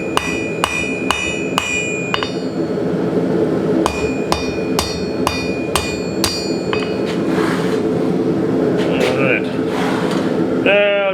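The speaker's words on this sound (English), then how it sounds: "A couple little whacks there on each side" A hammer strikes the end of a steel center punch in short bursts of sharp metallic clinks, about ten evenly spaced blows in two groups, over steady workshop background noise, with some speech near the end.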